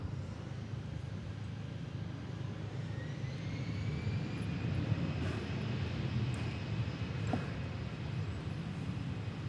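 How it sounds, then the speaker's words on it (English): American Airlines Airbus A319 jet at DFW Airport, a steady broadband engine roar with a faint rising whine, constant and moderately distant throughout, no talking. "You are looking at American Flight 1443, an Airbus A319"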